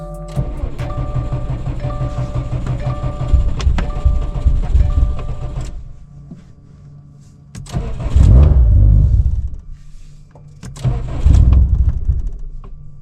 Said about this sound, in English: it went to fire up the car